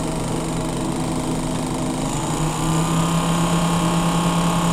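An Arduino-driven ignition simulator rotor spins with a continuous motor whine and hum, its pitch shifting as the speed changes partway through, close and steady with no talk.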